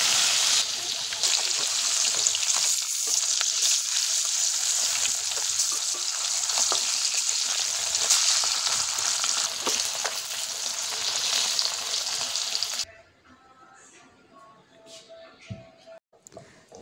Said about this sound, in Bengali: এখানে এই যে মাছগুলোকে লবণ হলুদ মাখিয়ে নিয়ে এখন আর কি ভাজা করব।